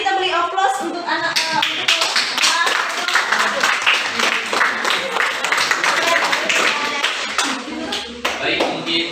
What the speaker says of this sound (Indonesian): Mari kita beri aplaus untuk anak